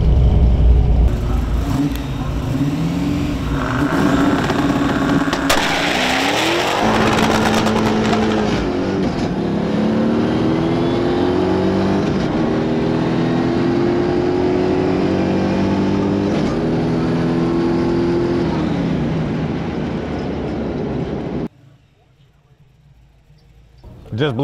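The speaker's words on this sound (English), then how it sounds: "just blew the tires off" A 700hp Pontiac street car launches hard at a dragstrip, engine roaring loud and rising in pitch as the tires spin, the howl holding for about twenty seconds before abruptly dropping away to quiet.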